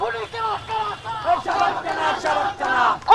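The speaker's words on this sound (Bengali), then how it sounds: "সাধারণ শিক্ষার্থীরাও শাহবাগ থানার সামনে এসে বিভিন্ন ধরনের স্লোগান দিচ্ছে" Crowd of students chanting slogans in rhythmic, repeated shouts in front of Shahbag police station in Dhaka, loud and close with a steady cadence.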